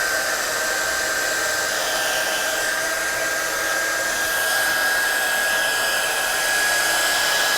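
A heat gun blows steadily to dry watercolour paint on a stamping craft project, a close, continuous airy roar with a thin high whine that holds at a constant level throughout, with no talking.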